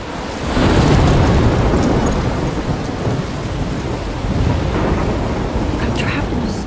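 Stormy weather in the Life is Strange video game: a steady wash of heavy rain with rolling thunder rumbling loudly throughout, no voices over it.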